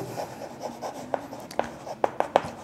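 Pen or chalk strokes writing out a maths answer: a faint scratchy run of short, quiet strokes, several soft taps near the end, close and alone with no talk.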